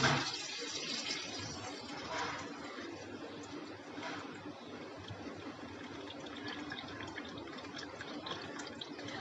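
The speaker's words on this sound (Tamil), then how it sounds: "நம்ம இந்த கரைச்சி வச்சுருக்கிற புளியை ஊற்ற போகிறோம்" Dissolved tamarind water is poured into a cooking pot for a village-style Tamil fish gravy, making a faint, continuous splashing gush at close range.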